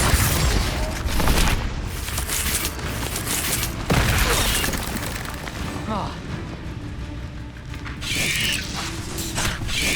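Confringo fire-spell blasts in Hogwarts Legacy go off as booming bursts within dense, busy game audio, with heavier hits near the start and around the middle, and a voice speaking over the action.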